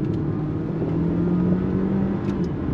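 A 2024 Dodge Hornet R/T plug-in hybrid compact SUV pulls hard on throttle, giving a steady, fairly loud engine drone with a rising tone that carries through the whole stretch without any talking.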